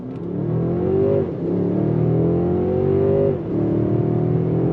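A 2022 Mercedes-Benz S580 pulls away hard from a dead stop, its engine climbing steadily through two smooth upshifts with brief dips in pitch, loud and close from inside the cabin with no talk.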